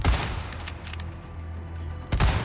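Resident Evil 4 Remake gameplay: a sharp burst of gunfire opens, followed by a few lighter clicks and a second loud blast near the end, heavy and close with a booming low end.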